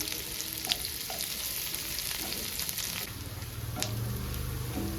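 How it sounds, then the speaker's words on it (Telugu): Onion frying with curry leaves in oil for a black-eyed pea curry, a steady close sizzle and crackle with a few sharp pops and a brief stir scrape near the end. "కరివేపాకు కూడా కొంచెం వేసుకొని ఫ్రై చేసుకుందాం"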